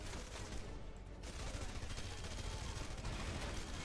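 Gunfire in the video game Red Faction Guerrilla Remastered rattles in rapid, faint bursts within a dense wash of battle noise, with no clear talk.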